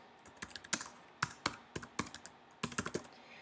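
Close, crisp keystrokes on a computer keyboard as a website name is typed, coming in quick irregular bursts with short pauses between them and no voices.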